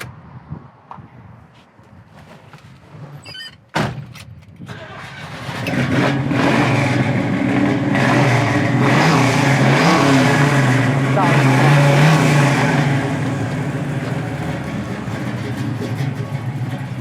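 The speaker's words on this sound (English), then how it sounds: "That's what a muscle car should sound like." A 1972 Chevy Nova muscle car engine starts with a sharp crank and then roars into a loud, throaty rev, holding a deep rumbling idle close by.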